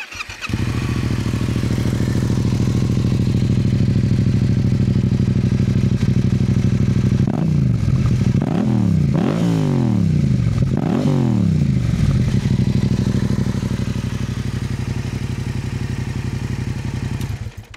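A Yamaha XSR700 cafe racer fitted with an Akrapovič exhaust idles steadily close by, then blips its throttle in a series of about five sharp revs before settling back to a loud, even idle.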